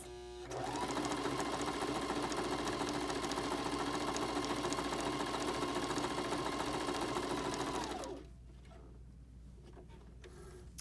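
Baby Lock Zeal sewing machine running a narrow zigzag stitch, a steady fast motor whir with rapid needle ticking that holds for about seven seconds, then stops, leaving quiet room tone.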